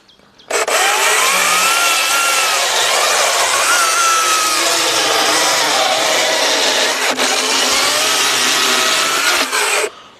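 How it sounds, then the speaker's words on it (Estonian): An EGO CS1200E battery arborist chainsaw cuts through wood, a loud, close, continuous high whine with steady cutting rasp lasting about nine seconds, starting and stopping abruptly. "Issi proovib ka saagida."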